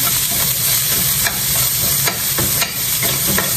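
Onion and garlic sizzle steadily as they sauté in a pan, with close scraping strokes of the stirring utensil repeating every second or so, no voices.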